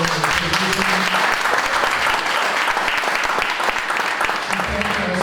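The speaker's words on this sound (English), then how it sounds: "I'd like for us first to give another round of applause for Ms. Latoya Benjamin." Audience applause at an entrepreneurship and reentry forum, a steady, dense wash of clapping that fills the room for several seconds without letting up.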